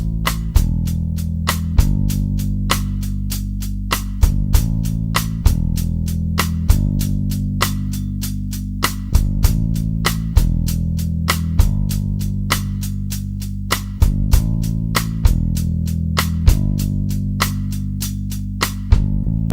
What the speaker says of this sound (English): now I'm going to try eighth notes on the hi-hat